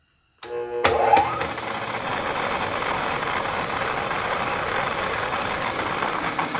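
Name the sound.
drilling a hole in an engine part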